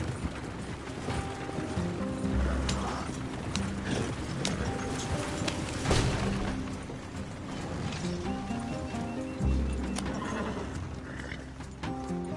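In Red Dead Redemption 2, a ridden horse's hooves clop rhythmically at close range, with a whinny and snorts, over music and background game sounds.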